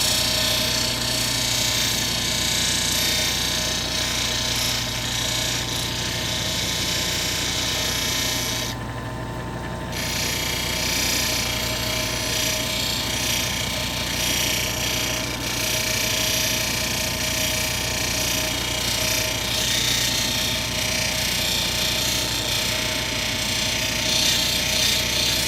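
A gemstone cabochon is held against a spinning 1,200 grit polishing wheel, a steady motor whine with continuous grinding and rubbing, close and constant, with a brief dip partway through.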